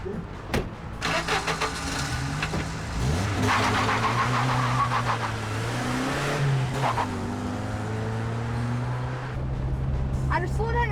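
A car engine revs and accelerates hard through a chase, its rising and falling pitch steady and close, with shouting voices over it.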